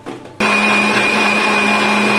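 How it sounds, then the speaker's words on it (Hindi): A kitchen blender kicks on and grinds dry fruit milkshake ingredients with fresh cream, a loud, steady whirring motor drone with a high whine, starting abruptly after a brief quiet moment, close and alone. "अब हम सारी चीजों को जो है अच्छी तरीके से ग्राइंड कर लेंगे।"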